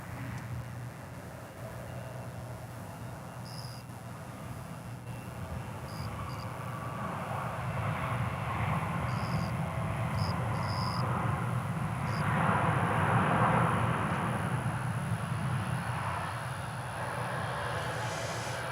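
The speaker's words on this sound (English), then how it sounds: "Arizona, an Airbus A321, flight 2720." Airbus A321, flight 2720 from Tucson, Arizona, arriving at an airport, its engine roar swelling gradually from faint to a louder peak and then easing off, with brief higher chirps scattered above and no speech.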